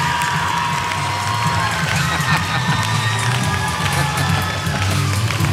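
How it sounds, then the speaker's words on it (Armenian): A television premiere audience breaks into loud, dense applause and cheering at a vote result, a steady roar of clapping and shouts filling the whole stretch. "բարձր ծափարում ենք"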